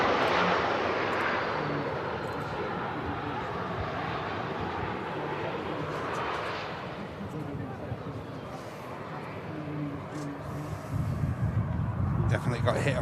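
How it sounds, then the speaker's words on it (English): Fixed-wing aircraft landing at Manchester Airport in a breeze, a steady loud engine roar that swells and fades over several seconds with voices talking underneath. "second aircraft in a row to get caught like that."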